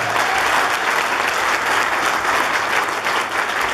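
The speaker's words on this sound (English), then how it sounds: "Clap for them." A church congregation breaks into loud, sustained applause, a dense wash of many hands clapping together without a break, close and full throughout.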